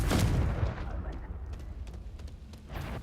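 A Confringo blast spell in Hogwarts Legacy erupts with a heavy booming explosion at the start, then a rumbling tail with scattered crackles and a second burst near the end.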